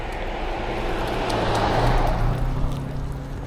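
Busy road traffic near a viaduct, a broad continuous roar of passing vehicles that swells in the middle and stays loud throughout, with no talk.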